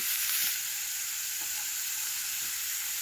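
Cottage pie filling sautés in a pan outdoors in a village setting, giving a steady bright hiss of sizzling that is close and even, with a few faint stirring taps.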